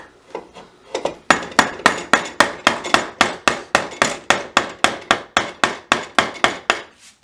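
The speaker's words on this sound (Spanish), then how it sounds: "lo pueden hacer con el mazo de madera" A wooden mallet strikes steadily while a table puppet is roughed into shape, landing around twenty sharp, evenly spaced blows that start with a few lighter taps and then settle into a firm, regular rhythm.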